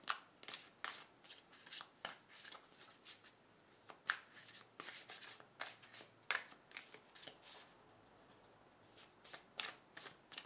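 Tarot cards being shuffled in a quiet room, crisp riffling bursts repeating at an uneven pace, with brief pauses between shuffles.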